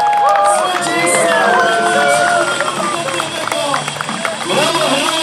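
A crowd at a medieval knights' tournament re-enactment cheers and shouts loudly, with whoops and children's voices in a dense, continuous roar and an announcer's voice carrying over it.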